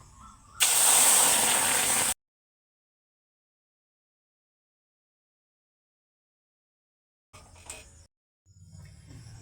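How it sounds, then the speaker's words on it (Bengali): Milk poured into fried semolina in a hot pan sets off a loud, sudden sizzling hiss that lasts about a second and a half and then cuts out, followed by faint kitchen sounds. "এবার আমি এর মধ্যে দিয়ে দিচ্ছি এক বাটি পরিমাণ দুধ"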